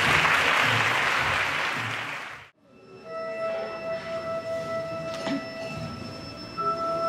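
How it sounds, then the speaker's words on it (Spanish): A loud burst of applause for young pupils at a school infant-class Christmas show, dense clapping for about two and a half seconds before cutting off abruptly, followed by quiet room tone with faint tones and small noises. "pediros un fuerte aplauso para los alumnos que van a empezar ya"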